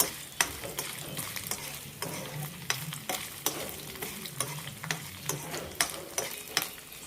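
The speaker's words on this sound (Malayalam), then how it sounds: "തേങ്ങാക്കൊത്തും കറിവേപ്പിലയും മാത്രമാണ് വറുത്തിടുന്നത്" Coconut pieces and curry leaves fry in a pan with a soft, steady sizzle, broken by regular scraping stirs that tick at roughly even intervals, close and fairly quiet, no voices.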